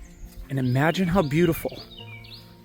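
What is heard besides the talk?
birds chirping outdoors in a backyard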